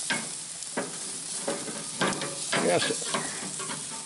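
Ribs being flipped on a cooking surface give off a dense, steady sizzle with scraping, clattering turns, close and fairly loud, while a voice briefly speaks.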